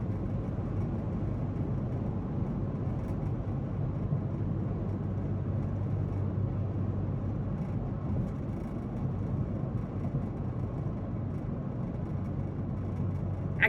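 A car drives in morning commute traffic on the interstate into Louisville, giving a steady, even road and engine rumble throughout with no break and no talking.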